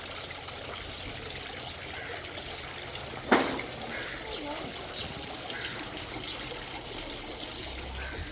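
Water flows in a newly built fountain with a continuous splashing trickle and pour, joined by a sudden short gush midway, while people talk nearby.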